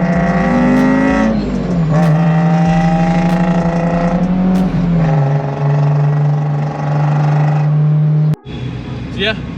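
A supercharged Honda S2000 engine drones loudly from inside the moving car, holding a steady pitch with shifts in tone as it revs, before a brief cut near the end.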